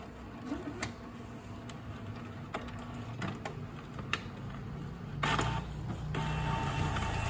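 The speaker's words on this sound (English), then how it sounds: "Every time you set this, it's going to load the paper in the tray." A Canon E510 inkjet printer with a faulty pickup roller pulls paper in from its tray. Steady motor whirring sits under irregular mechanical clicks and clunks, and a louder feed mechanism churns in near the end.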